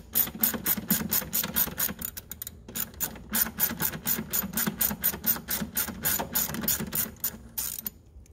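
Ratchet wrench backing an 8mm nut off the fuse box of a 2018 Ram Promaster 2500 van, a rapid steady clicking of the pawl running nearly continuously with brief pauses, close and fairly loud, no talking.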